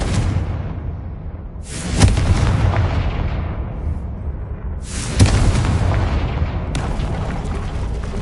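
Confringo fire-blast spells explode repeatedly in the game Hogwarts Legacy, each a sudden loud crack-boom trailing off into a decaying roar, with three distinct blasts spaced a few seconds apart.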